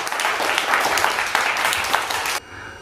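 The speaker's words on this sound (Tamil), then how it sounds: "திரு கிருபானந்தசாமி அவர்களை இவ்விழாவிற்கு கைத்தட்டல் விண்வரை ஒலிக்க வருக வருக என அன்போடு வரவேற்கிறோம்" Loud, continuous applause from an audience welcoming a guest at a ceremony, steady clapping for about two and a half seconds before cutting off abruptly.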